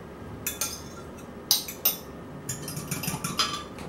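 A utensil stirs a beaten egg in cold water, giving a few sharp metallic clinks and scrapes against the bowl over a quiet background.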